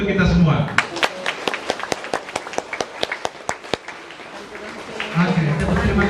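Sharp, evenly spaced hand claps in a rhythmic pattern, a group clapping in unison at a Sunday jamboree gathering. Talk comes before and after the claps.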